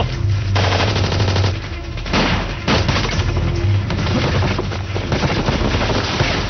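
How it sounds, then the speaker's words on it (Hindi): Gunfire in a dubbed Hollywood action movie battle scene, loud rapid machine-gun bursts and shots in dense volleys with short pauses between, close and continuous. "ये गोलियां क्यों चल रही हैं?"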